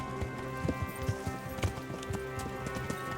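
A horse plods along in Kingdom Come: Deliverance, its hooves striking in a steady clip-clop rhythm at close range beneath a faint musical drone, with no talking over it.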